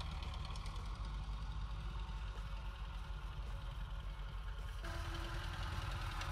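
Tractor hauling a freshly loaded sugarcane trolley in a Pakistani village, a steady low diesel rumble and knocking chug that runs continuously throughout, fairly close.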